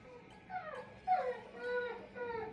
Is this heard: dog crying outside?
yes